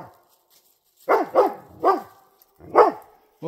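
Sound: dog barking

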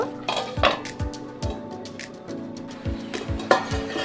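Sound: covering cooking pot with lid

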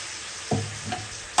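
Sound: fried chicken added to masala and stirred

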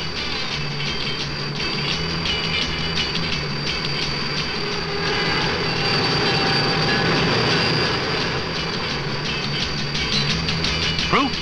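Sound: CN Turbotrain passing on the rails

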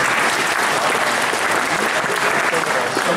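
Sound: audience applause

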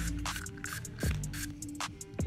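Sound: spraying 91% alcohol into a vape tip

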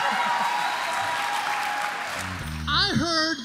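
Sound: audience applause

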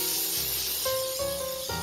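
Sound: coconut oil cooking spray being sprayed on parchment paper

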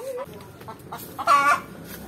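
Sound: hen clucking, probably after laying an egg

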